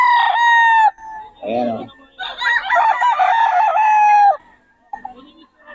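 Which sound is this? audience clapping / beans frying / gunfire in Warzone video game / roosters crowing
roosters crowing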